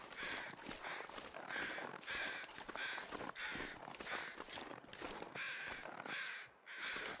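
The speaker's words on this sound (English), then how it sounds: "Let's see what the crows are" Crows caw repeatedly in the cold wilderness of the survival game The Long Dark, a steady series of loud harsh caws in close succession, with no talking.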